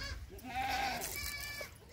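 Goats bleat on a farm at milking time, one clear wavering call and then a shorter cry, heard close but fairly soft over faint background noise.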